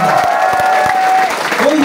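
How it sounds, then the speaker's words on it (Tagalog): Audience clapping at a motivational seminar, scattered hand claps under a loud voice speaking over the crowd, with some cheering mixed in. "Palakpak naman ang mga payaman sa inyo."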